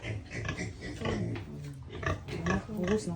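A sow grunts and snorts repeatedly up close, a busy, irregular stream of low rough grunts with some muffled voices mixed in.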